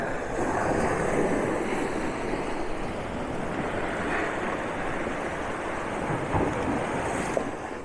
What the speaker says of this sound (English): every now and again you'll get a good wave that will crash right up over